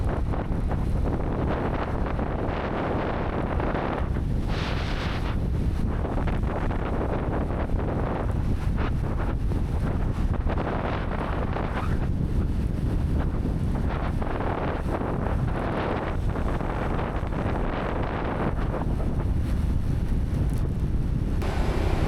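Steady rushing wind buffeting the microphone while riding a motorbike through Vietnam after rain, a constant loud roar with no talking.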